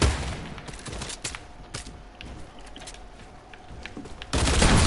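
Rapid gunfire from the Fortnite video game sounds as a close burst of sharp shots over a continuous game background, then swells into louder noise at the end.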